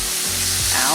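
Crumbled tofu with broccoli hitting a hot pan, a loud, close sizzle that swells suddenly and keeps hissing, with stirring and scraping noises mixed in.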